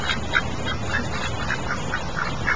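Farm ducks quack in a steady run of close, overlapping calls and beak clacks, with no one talking over them.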